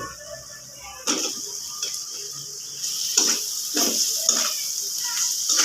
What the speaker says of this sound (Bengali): এবার আমরা মাংস দিব।